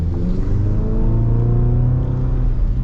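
A 2026 Chevy Colorado ZR2 truck's four-cylinder engine pulls hard under acceleration, a loud, close, rising drone with a steady rumbling tone and no talking.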